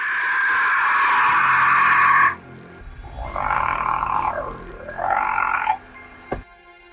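A reconstructed call of a pterosaur, a flying reptile: a loud, harsh, croaking tone held for about two seconds, then two shorter rising-and-falling croaks, close and alone.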